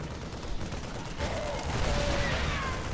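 A siege tank fires amid dense StarCraft II: Heart of the Swarm battle effects, a continuous crackle of gunfire and blasts under faint commentary.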